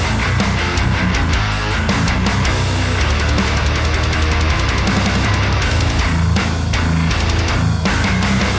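A user-submitted main tone: an aggressive, bright distorted electric guitar plays dense riffing continuously at full level, with no talking.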